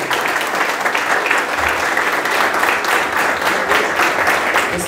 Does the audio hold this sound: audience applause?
yes